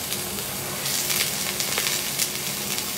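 Steady, close sizzling and crackling of clementine juice reducing in a saucepan, with occasional louder spits and pops and no voices.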